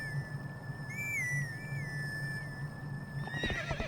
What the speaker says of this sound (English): But that's the horse call.